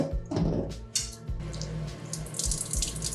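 Wet wool yarn dyed with goldenrod is wrung out by hand, giving close squishing and a splash at the start, then water trickling and dripping steadily into a sink or basin, with no voices.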